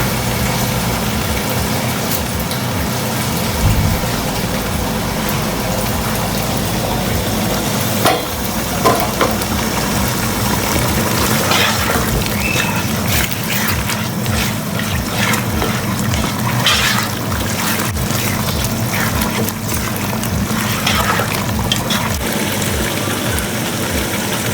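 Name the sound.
chicken stock water poured into sizzling chilli chicken pan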